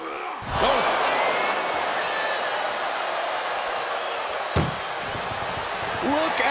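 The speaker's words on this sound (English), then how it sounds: "Look at the struggle just to shut that. One door is shut." Ambulance doors slammed shut during a WWE wrestling match, two sharp heavy bangs a few seconds apart over steady arena crowd noise, with a commentator talking throughout.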